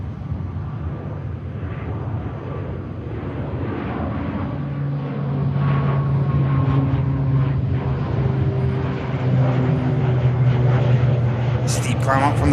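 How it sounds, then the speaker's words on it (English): A propeller aircraft climbs steeply after takeoff at Manchester Airport, its engine drone steady and loud throughout, with sustained humming tones that grow stronger as the plane pulls away. "Steep climb out from the prop."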